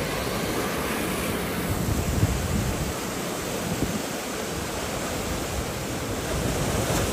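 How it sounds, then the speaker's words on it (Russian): Stormy sea surf crashes against the shore at Old Akko, Israel, a loud, continuous roar of breaking waves and wind noise that holds steady throughout with no pauses. "Вау, как море бушует."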